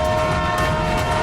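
A cartoon train rumbles along toward a blocked track near a station, a loud continuous rolling drone with a steady sustained horn-like tone running through the whole short moment, no talking.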